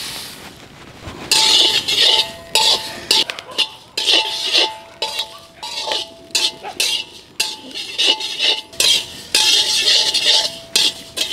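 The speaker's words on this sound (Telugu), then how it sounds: "ముందుగా ధనియాలు వేసుకుని దోరగా వేయించుకుందామండి" Coriander seeds dry-roasting in a pan, heard as a steady run of metallic scrapes and clinks as a spoon stirs them, continuous and close, with faint background noise.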